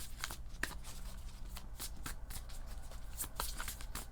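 Tarot cards being shuffled by hand in quick, crisp riffling bursts, a steady run of close, fairly quiet flicks and taps with no speech.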